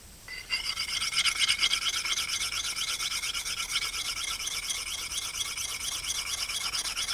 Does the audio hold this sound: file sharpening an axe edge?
yes